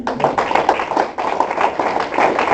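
A church congregation claps together in dense, steady applause, a continuous wash of hand claps at moderate volume with no clear pauses.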